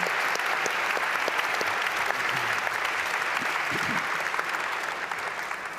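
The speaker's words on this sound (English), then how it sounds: "Please applaud the panel." An audience applauds a lecture panel at the 44th TB Macaulay Lecture, a conversation with Professor Johan Rockström; dense, steady clapping fills the room for several seconds with a faint voice or two underneath, tapering slightly at the end.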